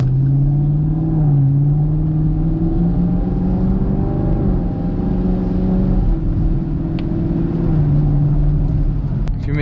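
A V8 car is driven to warm its oil, its engine a steady, loud, close rumble. The note swells slightly and settles as the revs shift, with no one talking.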